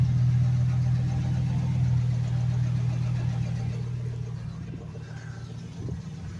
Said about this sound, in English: But that's a ticking noise I hear.